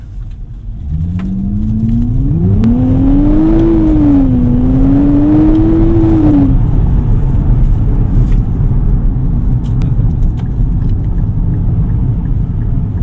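A 2024 Nissan Z accelerating hard, heard from inside the car: a loud engine note climbs steadily in pitch, dips at a gear change, climbs again and then settles into a steady, heavy cruising rumble.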